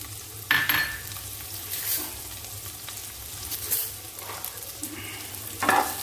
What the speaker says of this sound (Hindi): पैन में थोड़ा सा तेल डाल दिया है।